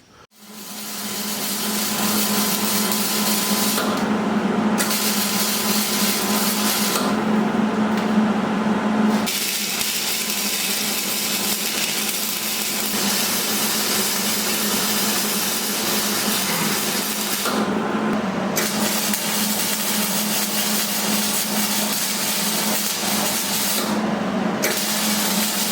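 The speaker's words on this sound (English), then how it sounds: "So we're going to get that one clamped in and welded into place." Steel braces being welded onto a metal barn-style door, a steady, close crackling hiss of the welder sustained throughout with a constant low hum beneath it.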